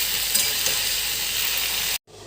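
Drumstick pieces and potato with salt and turmeric fry in a pan, giving a steady, loud, close-up sizzle and hiss that cuts off abruptly near the end, with no voices.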